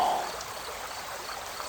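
Water from an enchanted waterfall cascades in a steady, soft rushing wash, broadband and even, with no voice over it.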